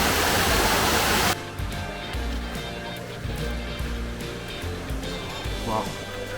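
Stream water on the Nahal David trail near a waterfall rushes in a loud, continuous wash, roaring strongly at first and then settling into a steady nearby burble with faint voices over it.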